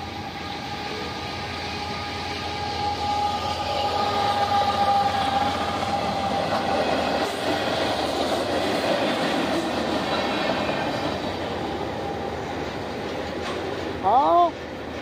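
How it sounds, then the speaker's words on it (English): A CS Railroad train rumbles past steadily at close range for the whole stretch, a broad continuous roar with wheel noise throughout, rising to a brief louder burst near the end. "All aboard the CS Railroad."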